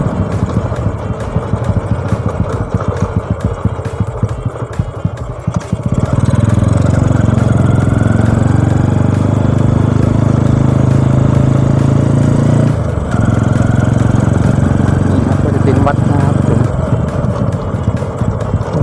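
A Honda Wave 100 motorcycle engine drones steadily while being ridden, loud and continuous with a shift in pitch partway through and a brief dip later, no voices over it.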